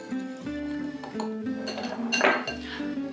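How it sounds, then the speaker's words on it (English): A small whisk clinks and rattles around a bowl, mixing dry cake ingredients with quick, uneven metallic taps and a faint ringing tone, close and clear. "I'm gonna take my handy dandy little whisk and just mix them all together"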